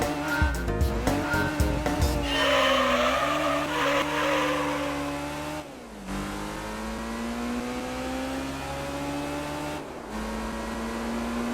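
A Honda S2000 in a Gran Turismo 3 license test, its engine droning and rising through the gears, with tire squeals and brief gear-shift dips, steady and loud with no talk.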